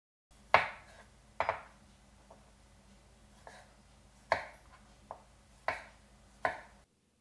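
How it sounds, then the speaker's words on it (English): A knife slicing cherry tomatoes on a cutting board for sushi, sharp distinct chops landing one at a time at uneven intervals, close and clear against a quiet kitchen background. "I'm using cherry tomatoes, so I'm just going to slice these down smaller."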